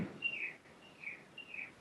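A bird sings outdoors in Maui, three faint high chirping phrases repeated at a distance over a quiet background.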